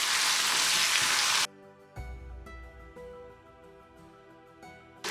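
Tomatoes fry with a bright, dense sizzle in a pan while cooking down for mutton keema, loud for about a second and a half before cutting off to faint background clatter.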